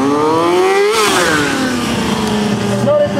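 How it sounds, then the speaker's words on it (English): A freestyle trick motorcycle ridden in tight circles, its engine revving loudly and continuously up close, pitch rising and falling as the throttle is worked. "He's just manipulating that bike around in a circle, just trying to get it to keep going."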